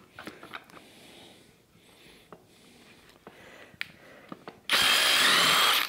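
A Ryobi power drill spins up loudly near the end while removing bolts on a 1934 Ford coupe build, a sustained whirring burst following quieter shop clatter and clicks.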